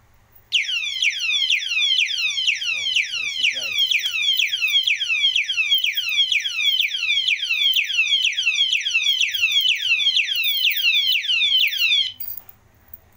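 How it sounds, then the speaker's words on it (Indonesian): A padlock anti-theft alarm for a vehicle, set off by touch, warbles loudly and piercingly in rapid repeating chirps, sounding continuously for about eleven seconds before cutting off abruptly. "maka ini akan berfungsi sebagai alarm guys jika ini tersentuh oleh maling seperti ini"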